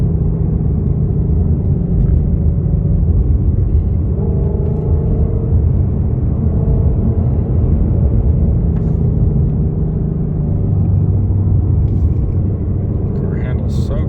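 Steady low rumble of a 2020 Ford Mustang GT350R with its 5.2-liter flat-plane-crank V8, driving at an even pace, continuous and fairly loud from inside the car, with a voice talking over it.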